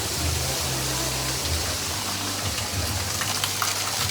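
Waterfall near a temple, a constant broadband rush of falling water with a low steady rumble underneath, filling the whole stretch evenly without pause.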